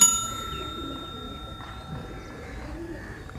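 Indian high-flyer pigeons give soft, low coos close by in a short burst against a faint outdoor background, with a thin tonal ring running alongside.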